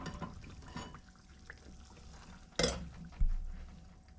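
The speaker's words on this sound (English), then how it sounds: "we are going to add the water and sugar mixture that we have heated." Heated water and sugar syrup is poured into a pan while stirring a kada prasad mixture, a splashing pour with a sharp burst partway through and a second thump, near and moderate over a low kitchen background.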